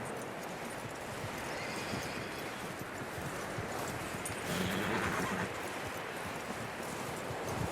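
A horse in the video game Red Dead Redemption 2 clip-clops steadily over ground amid wind and rustling, with a brief whinny partway through, the hooves close and continuous under an outdoor ambience.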